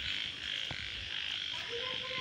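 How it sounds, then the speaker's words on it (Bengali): Frogs croak steadily during monsoon rain near a drainage pipe, a dense chorus under constant rain hiss, with a few clearer calls standing out near the end. "তবে বর্ষার জল পেয়েছে তাই ব্যাঙ ডাকছে।"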